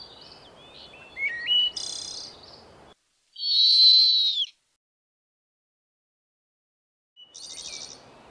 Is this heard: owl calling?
yes